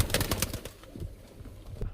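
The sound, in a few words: long-winged pigeons cooing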